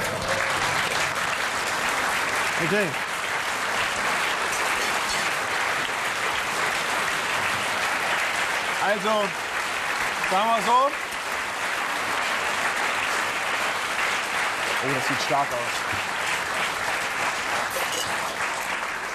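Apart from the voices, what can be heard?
audience applause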